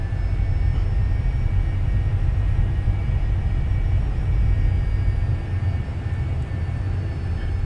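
Jet engines of a Citation C550 in the X-Plane 11 flight simulator rumble steadily while the aircraft lines up on the runway, with a constant low drone and a faint high whine.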